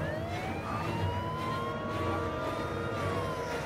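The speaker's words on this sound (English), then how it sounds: "It's a sound of the police." A police siren from the Heavy Rain video game wails steadily with rising and falling sweeps over a continuous rumble of traffic and engine noise, with no talk.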